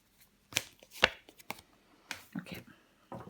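Tarot cards laid out on a table, a few sharp slaps and soft brushing contacts spaced irregularly, close and fairly quiet with no talking.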